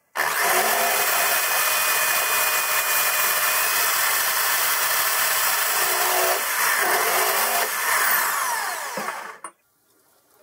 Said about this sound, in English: I'm fitting my drill, electric drill on the end. And I'm just going to spot these four positions.